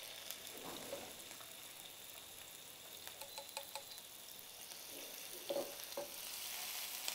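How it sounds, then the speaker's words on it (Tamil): Chopped banana stem frying in butter, a quiet steady sizzle with soft stirring scrapes and a few small pops close by. "தேவையான அளவு பட்டரை போட்டு கட் பண்ண வாழைத்தண்டை போடவும்."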